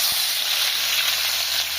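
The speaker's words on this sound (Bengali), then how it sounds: "গোশটা ভাজা হয়ে গেছে, এই দেখো কত সুন্দর করে ভাজে নিচ্ছি" Meat frying in a pan with ginger, cumin and green chili, a steady close sizzle and hiss running without a break.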